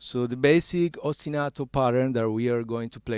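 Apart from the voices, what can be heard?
None of the usual background noises is heard.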